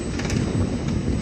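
A small children's ride-on train rolls through Salam Park in Riyadh, giving a continuous broad rumble with faint rattling, loud and close, with no voices.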